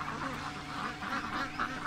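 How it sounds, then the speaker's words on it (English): Adult ducks being let out honk and quack in a lively overlapping chorus close by, several calls in quick succession. "I'm going to let the ducks out here, the adult ducks."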